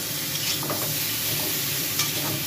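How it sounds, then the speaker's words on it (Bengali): Spices sizzle and crackle in a hot pan, with soft scraping from stirring, a steady close-up fry with no talking. "এটা একটু ভাজা করে নিলাম।"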